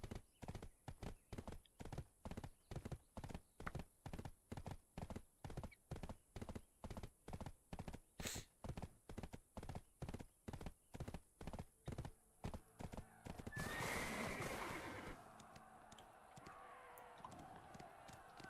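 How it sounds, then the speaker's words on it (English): Horse hooves clip-clop steadily and loudly in an even rhythm through most of a video game scene, with a brief burst of a neigh or whinny near the end, then quieter ambience. "Horsey!"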